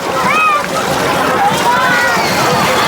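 Water sloshes and splashes steadily as a boat moves along at a fair in Latur, with children's voices and chatter mixed in throughout.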